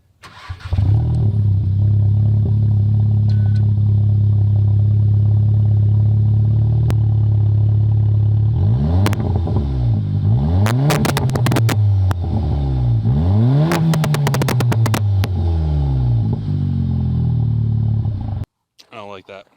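Car engine with a straight pipe exhaust, no resonator or muffler, and a Stage 1 burble tune: a loud deep idle, then several sharp revs that rise and fall, ending in a cut-off.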